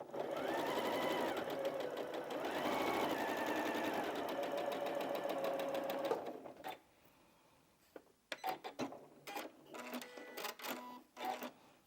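A sewing machine stitches fabric for a spools quilt block, with a steady whirring run for about six seconds, then stops and gives a series of short stop-start bursts and clicks, close up, with no talking.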